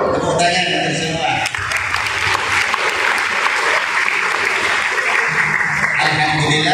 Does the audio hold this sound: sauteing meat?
no